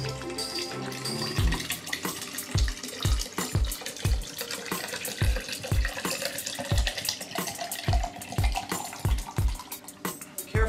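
Preservation liquid poured into the base of a portable HiFlo reverse osmosis filter, a steady liquid trickle and splash running throughout, with regular clicking thuds repeating over it.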